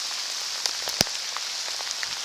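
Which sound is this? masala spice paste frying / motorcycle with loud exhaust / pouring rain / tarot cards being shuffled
pouring rain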